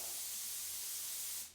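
An Iwata LPH80 spray gun with its trigger pulled halfway at about 5.5 bar lets out a steady, loud close-up hiss of air and paint for around a second and a half before cutting off.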